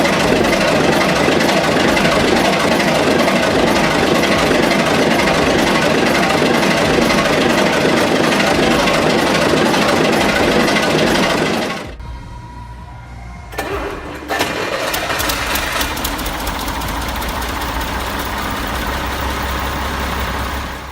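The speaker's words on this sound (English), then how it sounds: "6S37 wakes slowly, a measured rhythm forged for endurance" An old 6S37 engine runs loud and dense with a fast, rough mechanical rhythm, cuts out abruptly to near quiet, then cranks and catches again, settling into a lower, steadier running note.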